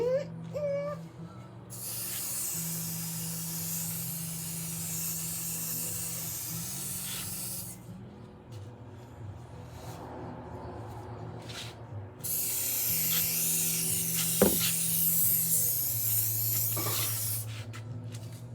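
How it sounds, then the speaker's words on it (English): Trim shine product sprayed onto a boat's windshield wiper, a broad steady hissing spray in long bursts with brief pauses, over a constant low fan hum. "Spray this windshield wiper too"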